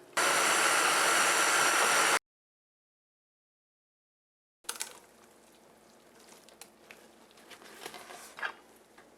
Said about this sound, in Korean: 이렇게 지금 믹서기에다가 이렇게 또 갈아서 잼처럼 발라 먹을 수 있는 또 이렇게 청을 만드는데요